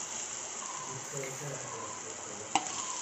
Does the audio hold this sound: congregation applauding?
no